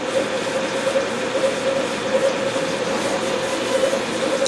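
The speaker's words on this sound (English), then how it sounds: "This lathe will sit here and run as long as I feel like letting it run. It'll just keep repeating the same program over and over and over." An automated glass lathe runs its repeating program, a steady mechanical hum with a sustained midrange whine and rumbling vibration, continuous and close with no distinct breaks.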